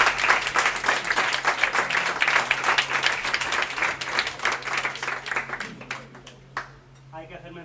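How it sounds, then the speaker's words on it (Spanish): Audience applause at a PechaKucha Halloween event in a café, sustained close clapping from a crowd that thins out toward the end, with a voice and faint chatter underneath at the close. "un aplauso por favor por acogernos"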